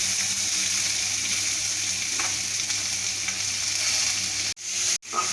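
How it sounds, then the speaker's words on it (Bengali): Chopped onions sizzle steadily in hot oil with whole cloves, cinnamon and cumin seeds, a dense continuous frying hiss with faint scrapes, cut by two abrupt drops near the end. "পেঁয়াজগুলোকে লাল লাল করে ভেজে নেব।"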